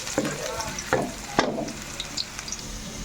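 Ginger and garlic frying in a pan for Ilocano pakbet with etag, a steady close sizzle broken by a few sharper bursts as pieces are stirred in, with no one talking.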